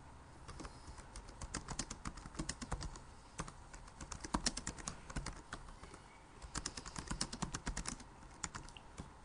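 Comments being typed on a computer keyboard, a steady run of quick, light key clicks in bursts with short pauses, close and fairly quiet with no talk.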